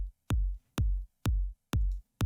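Electronic kick drum sample for a slap house track, soloed: four punchy, booming hits with a sharp click on top, evenly spaced at a steady tempo, loud and dry with short silences between.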